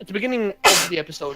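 A sudden sharp sneeze bursts out between stretches of someone speaking, close and loud.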